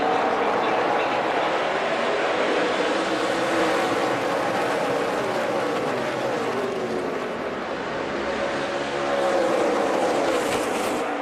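NASCAR Nationwide Series stock cars at Chicagoland in 2014 roar together as the field comes back to green, a loud sustained engine drone with rising and shifting pitch under distant commentary-like background.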